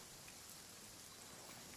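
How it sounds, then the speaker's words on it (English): Steady, dense rain hiss from a video game fills the whole moment, an even wash of falling drops with no pauses and no talking. "Does it not stop raining in this game?"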